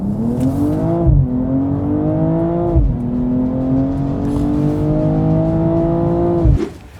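A sports car in Sport Plus mode accelerates hard with its engine roaring loud and close. The pitch climbs steadily through each gear, broken by sharp upshifts, and the engine drops off abruptly near the end.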